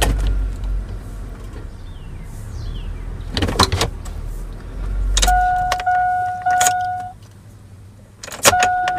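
A GMC truck under repair idles with a low engine rumble that fades partway, joined by jangling keys, sharp clicks and short electronic chime tones near the cab.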